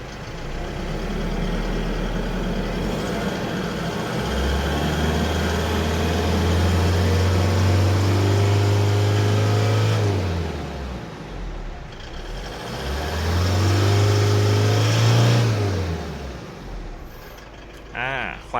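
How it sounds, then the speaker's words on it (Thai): A 2019 Isuzu D-Max 3.0 Blue Power Hi-Lander pickup idles with a steady diesel rumble, then revs twice in long, smooth swells that rise and fall back to idle, close and loud. "ผมจะเหยียบคัตเข้าไปแล้วก็กดปุ่ม push start ได้เลย นี่แค่นี้เครื่องก็สตาร์ทแล้วครับ ลองเบิ้ลดูนะ"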